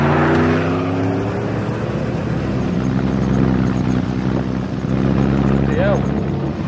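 A truck engine drones steadily as it climbs uphill, with a low hum and a rising whine near the end, while people talk over it throughout.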